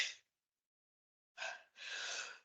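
A single close sneeze: a quick sharp intake, a brief pause, then a loud breathy burst, in an otherwise silent room.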